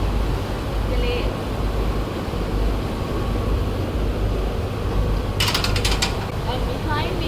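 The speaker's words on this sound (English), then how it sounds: "this is our drying machine" A tea leaf drying machine with six layers runs in a steady mechanical clatter of gears and ratcheting parts, loud and close, with a brief sharper rattling burst near the end.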